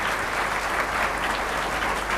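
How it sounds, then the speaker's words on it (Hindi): A seminar audience in Begusarai claps loudly and steadily, dense sustained applause filling the whole stretch with no voices on top. "तो जोरदार ताली से हम उनका भी स्वागत करते हैं।"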